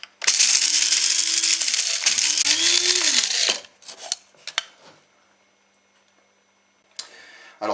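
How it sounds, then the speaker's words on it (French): A coffee grinder whirs loudly, grinding toasted Sichuan pepper berries in two close, steady bursts of a few seconds, each rising slightly in pitch, followed by scattered rattles and taps and a short final pulse. "On va passer ça pendant quelques instants au moulin à café."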